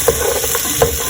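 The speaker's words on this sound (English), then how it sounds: "Here we are, just frying up the raw vegetables" Raw carrots, onions and celery frying in a pan give a steady close sizzle and hiss, with a couple of brief stirring scrapes cutting through.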